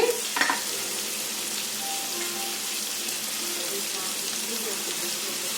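Goat tripe curry being stirred in a pan, with a steady soft sizzle and frying hiss throughout and a brief scrape near the start, no talking.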